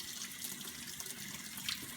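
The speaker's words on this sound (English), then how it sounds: "I'm going to give it a little rinse with some cold water." Cold tap water runs steadily over makeup brushes as they are rinsed at a sink, a continuous close hiss of flowing water with no talking.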